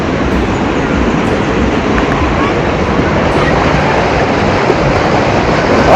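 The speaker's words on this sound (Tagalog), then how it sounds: "Medyo malakas din yung agos." Strong river current rushes at the foot of a waterfall, a loud, constant broadband roar of churning water filling the whole span without letup.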